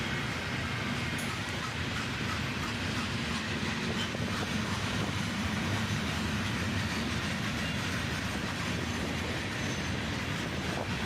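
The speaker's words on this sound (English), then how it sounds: "a southbound CSX intermodal train on the other track" A southbound CSX intermodal freight train rolls past on the adjacent track, a steady, loud roar of wheels and cars with faint clickety-clack running unbroken throughout.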